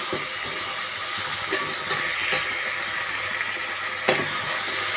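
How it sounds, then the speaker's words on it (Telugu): Ginger garlic paste fries in a pan for a mutton liver curry, giving a steady close sizzle with light stirring taps throughout and no speech. "అల్లం వెల్లుల్లి పేస్ట్ వేసాను. దీన్ని కొంచెం వేగనిచ్చేసి"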